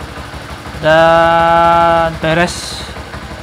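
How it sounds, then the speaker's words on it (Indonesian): A Honda C70 motorcycle with a stock 100cc engine idles, its tone rising and holding strongly for about a second before a short break and a brief return, with a voice speaking briefly near the end. "mesin udah nyala"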